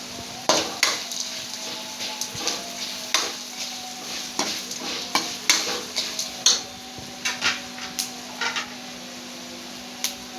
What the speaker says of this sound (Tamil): எண்ணெயில் பொரித்து காய் இதில் போட்டு கலரி விட்டுக்கலாம்.